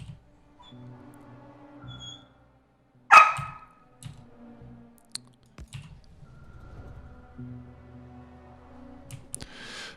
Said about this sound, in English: That high-pitched screech that you just heard is my dog Susie.